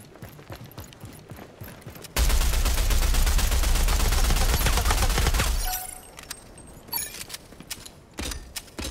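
Game gunfire from a Rogue Company tutorial opens with scattered shots, then erupts into a dense, loud burst of sustained automatic fire for several seconds before falling back to sporadic shots and mechanical clicks.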